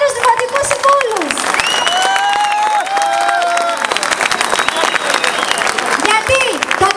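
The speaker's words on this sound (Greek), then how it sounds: "Κυρίες και κύριοι, χειροκρότημα στους επόμενους δημοτικούς συμβούλους." Applause for newly presented municipal councillors at a Greek campaign launch event, a dense, sustained crowd clapping with some cheering throughout, mixed with music and a voice over the top.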